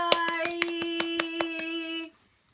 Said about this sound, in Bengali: এই তো ওয়ারিসা, হাততালি দাও সবাই